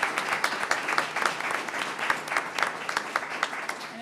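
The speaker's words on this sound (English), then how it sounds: "Please, another round of applause for our panelists." Audience applause for panelists at a university retirement celebration, a steady patter of many hands clapping at moderate volume, continuous for the whole stretch with no talk over it.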